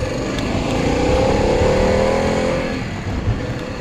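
A Harley-Davidson Pan America motorcycle accelerates hard while overtaking, its engine note rising in pitch as it revs, then easing off near the end, loud and close amid road and wind noise.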